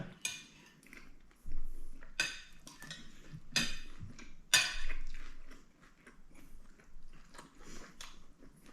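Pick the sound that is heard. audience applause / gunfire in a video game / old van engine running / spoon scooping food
spoon scooping food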